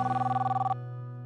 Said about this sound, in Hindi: ओह, ये किसका फोन आ गया भाई?